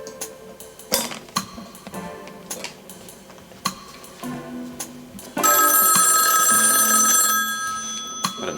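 A black rotary dial telephone rings up close with a bright metallic bell burst that sustains loudly for a few seconds, after scattered clicks, taps and knocks, with no one speaking.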